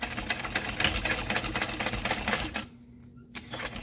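A sewing machine stitches a handbag, running in a fast, steady, moderately quiet mechanical rattle that stops briefly near the end and then starts again.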